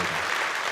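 Steady applause fills a church anniversary concert hall as each professor is introduced, a dense, even wash of many hands clapping at close range.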